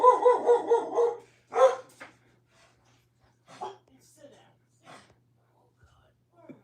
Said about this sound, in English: There is a dog out there because I hear it.